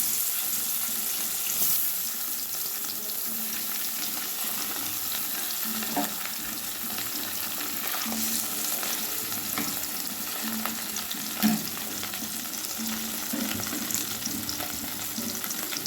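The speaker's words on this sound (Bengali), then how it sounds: "এবার মাছগুলো আমি ভেজে নেব, একা একে দিয়ে দিচ্ছি।" Pieces of rohu fish fry in hot mustard oil in a wok over medium-high flame, giving a steady, close, loud sizzle with soft bubbling and occasional clinks of a utensil throughout.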